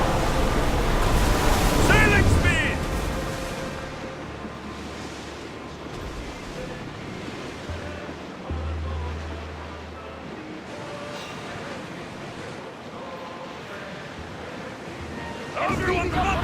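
A sailing ship surges at full speed over rolling waves in Assassin's Creed Odyssey, with steady wash and wind roar, a louder splash early on and crew voices calling out.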